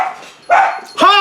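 Dogs barking in a room, two loud close bursts with a short pause between them, a yip-like harmonic bark at the end.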